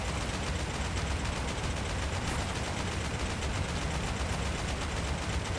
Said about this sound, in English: Treat this like a Gatling gun instead, and just, like, you know, sort of fire your rockets this way.